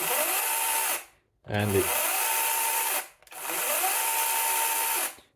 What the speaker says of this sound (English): the overall speed of this chainsaw also is fairly good, as you can see